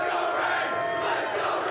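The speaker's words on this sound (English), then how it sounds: "Well, this is a warm welcome, Rain." Crowd cheering and roaring a welcome at a Counter-Strike esports playoff event, a steady dense wall of voices, loud and close, with no single speaker standing out.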